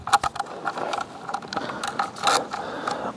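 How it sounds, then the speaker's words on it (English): A socket ratchet, fitted with an 8mm socket, clicks rapidly and close up while removing the skid plate bolts on a 2020 KTM 500 EXC-F dirt bike, with short uneven bursts of ratcheting. "So I'm going to pull the skid plate off and then we'll start draining the oil."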